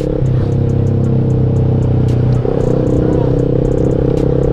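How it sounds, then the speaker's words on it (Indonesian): A 250 cc four-cylinder Kawasaki ZX motorcycle engine at night, a loud, close, buzzing steady drone that steps up sharply in pitch midway, with light clatter around it. "Gila ya itu suara ZX 4 silinder cuman 250 cc"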